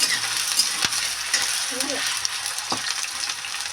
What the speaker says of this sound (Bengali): আলু পেঁয়াজ মটর কিন্তু আমি একসাথেই ভাজবো